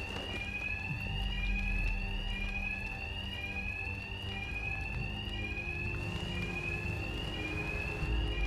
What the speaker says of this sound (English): cut the alarm